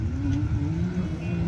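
A Can-Am X3 120 hp UTV racing on a rally course, its engine droning at a steady, fairly loud pitch with slight rises in revs over a short stretch.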